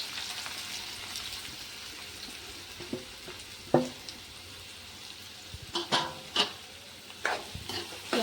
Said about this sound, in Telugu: ఈ ఆనియన్ లైట్ బ్రౌన్ కలర్ వచ్చేంత వరకు వేయించుకుందాము.